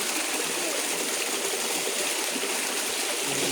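Steady flowing water like a stream or small waterfall, a continuous broadband rush that fills the clip at close range with no talk over it.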